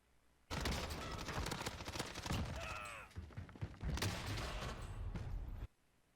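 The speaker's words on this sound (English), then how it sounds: "that guy to use that door when he hears all that gunfire" Gunfire erupts in a Call of Duty Warzone battle royale match, rapid overlapping bursts of automatic shots with heavy thumps and mechanical clicks, loud and close, pausing briefly before another sustained volley, then cutting off abruptly.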